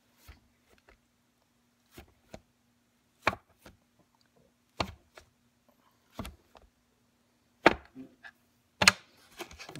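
Sparse, dull cutting thuds from cutting biscuit dough land on a hard surface in pairs and singles at irregular intervals, close up and otherwise quiet.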